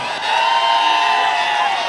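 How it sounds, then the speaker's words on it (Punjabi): A live audience at a Punjabi entertainment event in Jalandhar with Gippy Grewal and Prince Kanwaljit erupts in loud, sustained applause and cheering, a dense roar of clapping and whoops that holds steady for the whole stretch. "ਇਹਨਾਂ ਦੇ ਲਈ ਇੱਕ ਵਾਰ ਜ਼ੋਰਦਾਰ ਤਾੜੀਆਂ ਲਾ ਦਿਓ ਸਾਰੇ ਜਣੇ"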